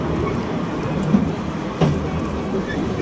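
A train on the seafront electric railway at Brighton Marina, England, rumbles past nearby with a steady rolling roar and a couple of short metallic clanks, with no one talking.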